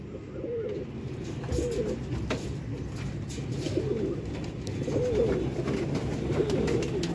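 Pigeons coo in a loft, soft low murmuring calls repeating under a steady murmur of birds close by, with occasional wing flutters and clicks.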